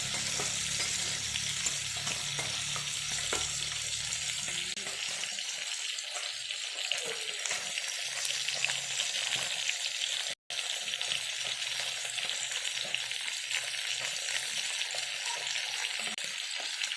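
Pabda fish frying in a pan, a continuous hiss and crackle of oil that runs steadily throughout, close and even, with a low rumble early on, a brief dropout near the middle and no talk.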